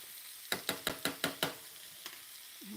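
A spoon stirring yellow grits cooking in a pot, six quick scraping knocks in a steady rhythm, close and clear, then a softer single tap and quiet simmering.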